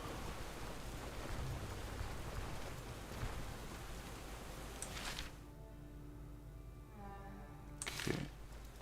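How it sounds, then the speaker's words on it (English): Steady rain hisses in the Stoneshard video game, with a couple of sharp thunder cracks breaking through, one midway and one near the end. "Sucks it's raining."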